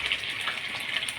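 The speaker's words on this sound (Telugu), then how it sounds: "బాగా మంచిగా ఫ్రై చేసుకోవాలండి. కొంచెం ఎర్రగా వచ్చేంతవరకు ఫ్రై చేసుకుంటే" Fish pakoda pieces frying in hot oil, a steady close hiss of bubbling and sizzling that stays even throughout the brief moment, with no voices.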